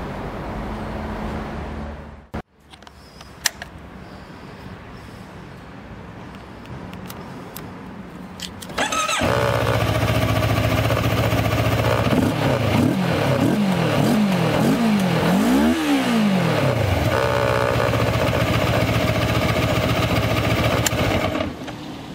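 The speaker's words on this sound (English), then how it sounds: "The engine, we know it, it's a typical engine that looks like Kawasaki Versys." A CFMOTO 650 MT's two-cylinder four-stroke engine, faint at first, then starting up loud and close, running steadily with a series of rising and falling revs before settling back to a steady run.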